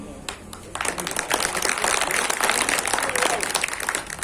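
An audience at a Holi gathering with poetry recitation breaks into applause, starting softly and swelling into a full, steady wash of clapping that holds to the end.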